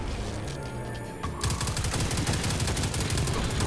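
Rapid automatic gunfire in the sci-fi shooter Destiny 2, a steady stream of shots that grows denser and louder partway through, continuing without pause to the end.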